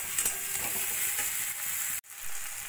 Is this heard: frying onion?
yes